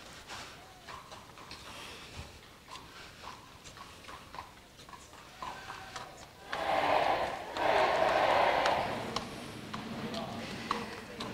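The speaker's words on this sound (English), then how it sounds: "Here comes the horse." Horse being led in for its blessing at the Selva contrada during the Palio in Siena, hooves faintly clopping beneath an excited crowd that swells into loud cheering partway through.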